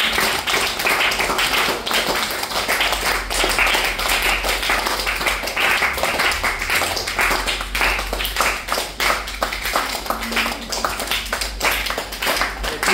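A science show audience at Visvesvaraya Science Museum in Bengaluru claps steadily and loudly for the whole stretch, a dense rapid patter of many hands with no pause.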